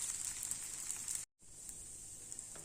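Instant dosa batter, Karnataka style, sizzling on a hot pan: a steady, bright crackling hiss, briefly cut to silence, then resuming at the same level.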